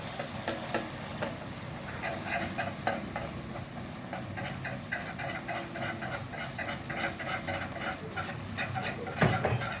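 A spoon stirs oil, water, sugar and a pinch of salt in a pot, giving a soft continuous swishing with faint clinks against the metal, close-up and steady without speech.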